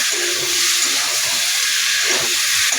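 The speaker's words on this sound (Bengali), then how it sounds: "এইবার আমি ফুলকপিগুলো দিয়ে দেবো, ভেজে রাখা ফুলকপিগুলো। একটু নাড়ব" Fried cauliflower dropped into a hot pan for an egg and cauliflower curry, giving a loud, steady steamy hiss of sizzling oil that runs throughout, with faint stirring scrapes underneath.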